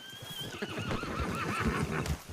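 A horse gives a loud, wavering whinny close by while hooves clop beneath it in an irregular rhythm, the neigh rising and trailing off over a couple of seconds.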